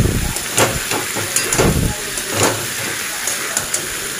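Lemon juice poured into a hot pan sends up a loud, hissing sizzle, swelling in short bursts over a constant steamy background.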